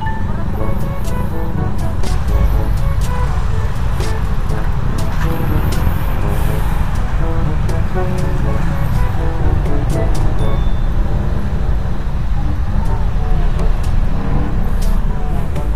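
A car sits in a traffic jam, surrounded by loud, continuous road noise: engine rumble, passing vehicles and occasional sharp hisses like air brakes, with people talking inside the car throughout.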